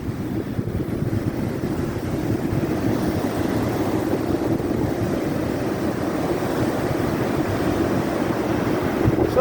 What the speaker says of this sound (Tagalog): Grabe naman yung alon na yan, oh.